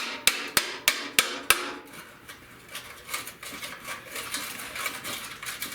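Five sharp metallic hammer strikes on a rusted radiator support of a 1970 Buick Wildcat in a steady rhythm, close and loud, followed by softer scattered knocks and clinks.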